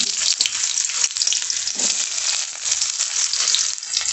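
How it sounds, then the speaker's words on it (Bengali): Chopped onions tipped into a pan of hot oil, already used to fry other ingredients for a chicken dish, give a loud, steady, dense sizzle with soft stirring scrapes throughout. "তো এইগুলো আমার ভাজা হয়ে গেছে, আমি পেঁয়াজগুলো দিয়ে দিচ্ছি।"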